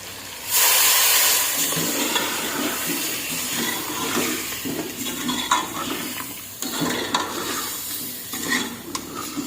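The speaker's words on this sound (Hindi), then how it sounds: "अब इसको थोड़ी देर के लिए भूनेंगे" Chicken and potato curry with tomatoes, green chilli, coriander, turmeric and red chilli sizzles loudly in a pan after water is added, a steady close hiss and crackle with occasional stirring scrapes throughout.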